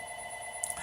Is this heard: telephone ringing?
yes